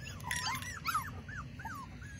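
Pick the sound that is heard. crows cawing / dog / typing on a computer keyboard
dog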